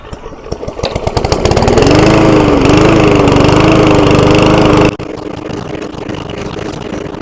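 SENIX gas push lawn mower engine pulled to a start after priming, catching within a second and roaring loud and close at a steady run for a few seconds before cutting down to a quieter hum.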